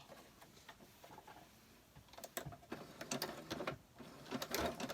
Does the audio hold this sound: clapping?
no